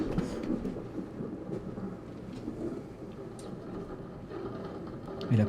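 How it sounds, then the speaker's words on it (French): Low thunder rumbles and rolls continuously as a sound effect in a French fantasy role-play liveplay, with a swell at the very end. "Et le tonnerre gronde."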